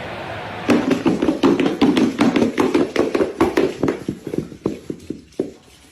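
Horse hooves clip-clop in a quick, steady run of sharp, close taps that gradually fade and slow toward the end, with no talk over them.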